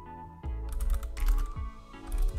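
Keys tapped on a computer keyboard in a short run of quick, irregular clicks, close and fairly loud, with no talking.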